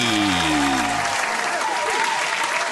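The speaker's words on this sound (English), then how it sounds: "make some noise for the silent inspiration, Martina Sneed." An audience at a live author conversation event bursts into loud, sustained applause with dense clapping and some crowd noise, heard up close.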